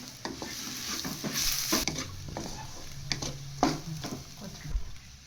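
A spoon scrapes and stirs puffed rice upma in a pan with a soft sizzle underneath, close by, in several irregular strokes and without speech.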